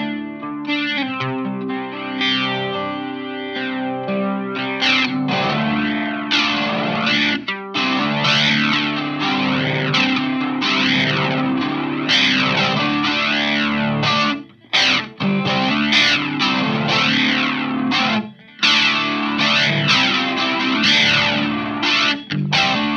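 Electric guitar played through a Keeley rotary speaker simulator pedal with gain added from a Mythos Mjolnir overdrive, giving a dense, driven tone with swirling, pulsing modulation as chords ring on continuously with only brief breaks.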